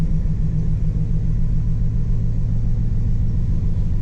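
A 1996 Dodge Ram pickup truck with a 5-speed NV3500 transmission rumbles low and steady close by as it rolls slowly away, a constant deep drone with no voices.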